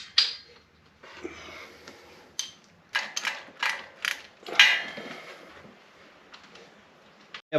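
Ratchet working old spark plugs out of an LS engine, a series of close clicking, creaking bursts in uneven rhythm with quiet pauses between strokes.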